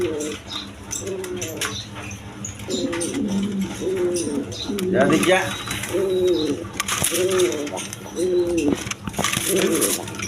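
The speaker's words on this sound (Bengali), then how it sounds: "এখানে এক পেয়ার ব্লু শালিং কবুতর আছে" A pair of blue Shaling pigeons coo in repeated soft, rhythmic phrases at close range, with background chatter and light rustling around them.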